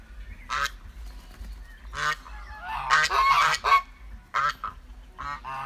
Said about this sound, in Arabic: هذا البط الجميل